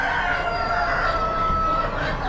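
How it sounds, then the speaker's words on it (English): Peahens calling amid the bustle of an Amish spring animal auction, a steady run of bird calls with tonal bands over dense crowd and barn noise throughout. "we have 3 peahens here."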